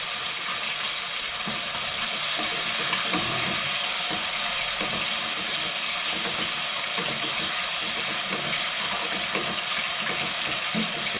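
Two cups of water pour steadily into a cooking pot in a home kitchen, a continuous close hiss and splash that runs unbroken throughout, with no talking.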